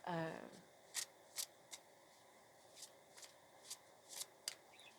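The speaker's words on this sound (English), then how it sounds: "I'm going to give it one more shuffle." Tarot-style Mystic Martian cards are shuffled and riffled in a series of crisp bursts, close by, with a brief voice at the start.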